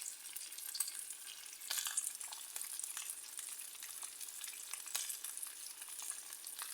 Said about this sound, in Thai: ตอนนี้เรากำลังทอดปลาทูนะคะนึ่งแล้วเอามาทอดค่ะ